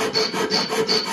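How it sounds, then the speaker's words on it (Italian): A hand file rasping across a steel nail being shaped into a lathe cutting tool, close and loud, with about four rhythmic back-and-forth strokes and no talking. "adesso che l'abbiamo segnato possiamo inclinarci un pochino con la lima"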